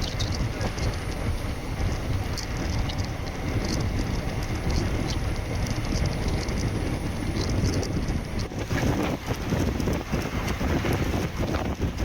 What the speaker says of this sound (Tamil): மேங்களூர் சென்ட்ரலில் இருந்து கோயம்புத்தூர் போக ஃபர்ஸ்ட் ட்ரெயின் இவன் தாங்க